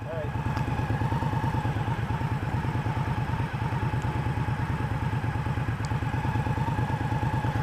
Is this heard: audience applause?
no